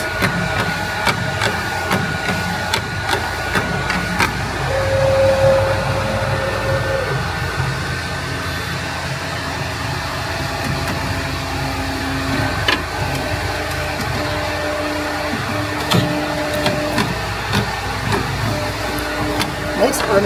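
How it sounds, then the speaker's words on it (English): A Ricoh Ri 4000 direct-to-garment printer lays down its first layer of white ink, giving a steady mechanical hum and whir with faint tonal whines, continuous and fairly close throughout. "Our machine is going to apply the first layer of white ink."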